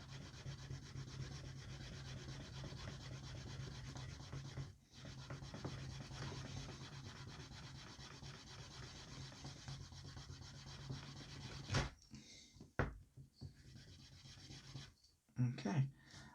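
Continuous rapid rubbing friction as the edge of a leather belt is burnished, a close, steady scratchy hiss that runs for several seconds, pauses, then resumes with a few sharper strokes and handling noises.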